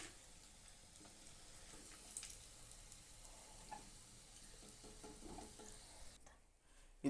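Idli pieces frying in hot oil until golden brown, giving a soft, continuous sizzle with faint stirring clinks, fairly quiet and with no one speaking.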